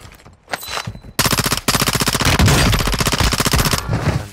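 Video game automatic gunfire in a battle royale match: a brief opening burst, then long rapid loud bursts of machine-gun fire, close and dominant.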